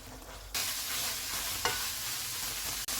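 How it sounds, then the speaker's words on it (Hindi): Minced meat keema being fried in oil in a pan on a stove at medium-high heat, a steady close sizzle that starts abruptly and runs on with a couple of brief stirring scrapes. "चूल्हे को मीडियम टू हाई कर देते हैं और इसको ऑयल अलग होने तक भून लेंगे।"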